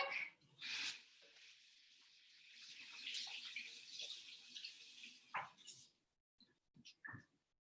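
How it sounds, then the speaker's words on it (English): Hands are washed under a running kitchen tap, a soft splashing stream of water that stops, followed by a few faint clunks and rubbing sounds. "I'm gonna wash my hands real quick"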